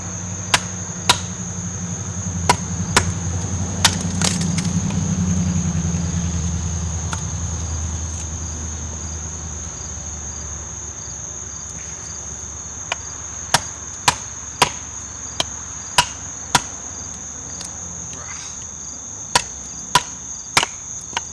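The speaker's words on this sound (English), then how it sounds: "wasn't really concerned about batoning with how thick that knife is" Southern Grind Jackal knife, a thick stout blade nearly a quarter inch, batoning through a twisted piece of wood outdoors: a series of sharp, irregular wooden knocks and chops, close and distinct, over a steady background of crickets.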